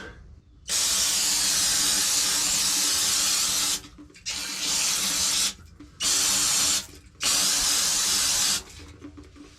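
Brake cleaner sprays from an aerosol can onto an excavator's hydraulic fittings in four loud, steady hissing bursts, each lasting one to three seconds and separated by short pauses, with no talking.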